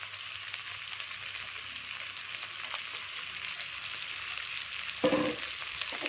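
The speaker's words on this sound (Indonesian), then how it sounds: "kita goreng ya, kita bolak-balik supaya terinya agak kering ya" Anchovies with chili and galangal fry in oil in a pan, giving a steady, close sizzle with a brief stirring scrape near the end.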